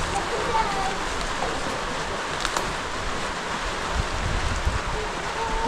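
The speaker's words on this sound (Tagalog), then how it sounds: "Lakas ang ulan yun." Heavy rain pours down in a constant, dense hiss, with voices talking faintly beneath it.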